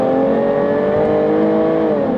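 Supercharged V6 of a 2016 Jaguar F-Type S Coupe, 380 bhp, pulling hard in sport mode: a loud, steady, close engine roar with a strong rising tone held throughout, no voices.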